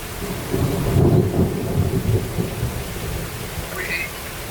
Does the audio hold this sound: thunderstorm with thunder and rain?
yes